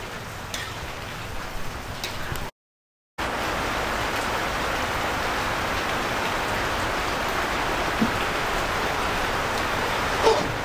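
Heavy rain pours steadily in a dense, hissing wash with scattered drops ticking on surfaces, loud and close, broken by a short cut of silence.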